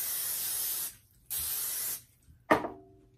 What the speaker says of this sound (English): I'm going to spray it with some olive oil spray.